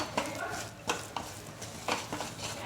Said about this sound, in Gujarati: તો આ રીતે હું કન્ટિન્યુ લોટને શેકી લઈશ